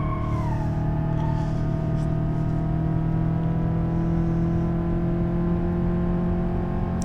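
A BeamNG 200BX road car driving on a race track in the simulator, its engine a steady, continuous droning hum with a sustained whine on top, holding near constant load throughout with no talk.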